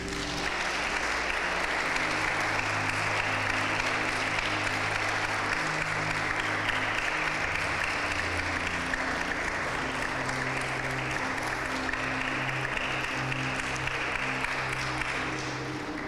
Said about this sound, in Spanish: Dé una ofrenda de palmas al Señor.